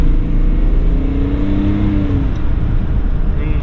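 LM2 3.0L Duramax diesel truck with a PPE turbo resonator delete, revved hard: a loud, deep engine roar whose pitch climbs as the throttle opens, heard from inside the cab with a window slightly open.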